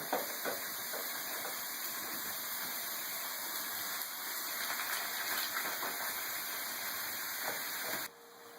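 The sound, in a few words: ground meat and onions browning in a pan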